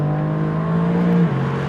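Mercedes-AMG GT R Pro from 2019 on a race circuit, its engine holding a steady, loud drone close by that dips slightly in pitch near the end as the revs drop.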